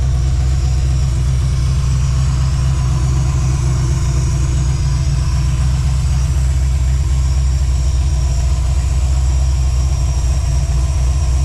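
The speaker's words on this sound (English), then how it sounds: "Thing pretty quiet for a roller engine, or a small block Ford roller engine." A Ford 351W small-block roller V8 swapped into a 1995 Mustang GT idles close by, a loud, steady low rumble with an even pulse and no voices.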